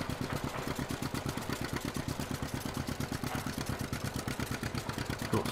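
A John Deere tractor engine idles nearby with a steady, rapid low-pitched chugging pulse that holds an even rhythm throughout, and no clear speech is heard.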